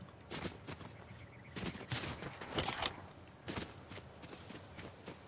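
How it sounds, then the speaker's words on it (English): Gunfire crackles in a multiplayer duos shooter match, several sharp distant bursts and single shots scattered unevenly over a few seconds, fairly faint, with a brief spoken word mixed in. "There's more gunshots like over here."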